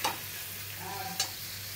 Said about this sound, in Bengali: সুন্দর করে কষিয়ে নিতে হবে